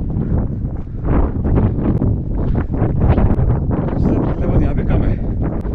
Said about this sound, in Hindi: देखो कहीं उड़ ना जाए, बहुत तेज हवा है भाई।